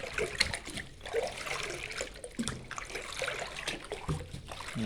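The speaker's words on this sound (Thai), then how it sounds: "หลังตามเติมปุ๋ยบีลงไปก็คน ปุ๋ยให้เข้ากัน ทั้ง A และปุ๋ย B นะครับ" Hydroponic fertilizers A and B are stirred into a container of water, producing continuous sloshing and swirling liquid sounds close by, uneven in strength throughout.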